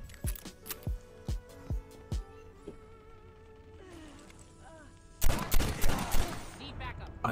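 Gunfire in the Call of Duty Mobile video game, a string of sharp shots followed by a louder, denser burst of machine gun fire near the end, with game effects in between.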